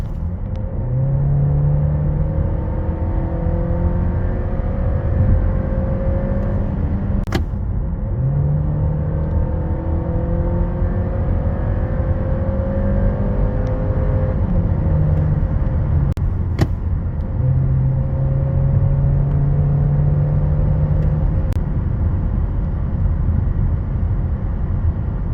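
A Volkswagen Passat B9 with a 1.5 TSI mild-hybrid engine and DSG7 gearbox drones under acceleration, the engine note climbing steadily through several gear changes under a constant road rumble heard from inside the cabin, with no talking.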